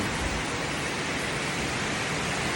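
Heavy rain pours steadily during a low-pressure storm around a nipa hut, a dense, even roar of broadband hiss with no breaks and no voices.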